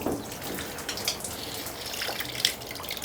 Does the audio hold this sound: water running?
yes